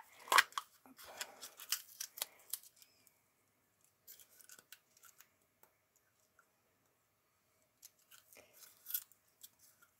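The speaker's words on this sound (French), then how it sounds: "Je vais m'aider du ciseau." Scissors snip through the paper wrap of a large roll, a quick burst of close, crisp cuts and rustling at the start, then scattered softer snips and handling sounds.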